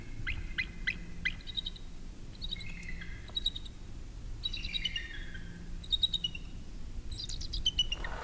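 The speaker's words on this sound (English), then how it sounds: "there's actually an eagle who has joined us today" A bald eagle calling over a remote frozen lake during ice fishing, a series of thin, high chirping and piping calls coming in bursts at moderate distance over a low steady background rumble.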